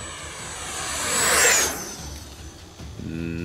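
An E-Flite Viper 70mm EDF model jet flies past at full throttle, a high whining rush that swells as it nears, peaks overhead, then drops in pitch and fades into the distance.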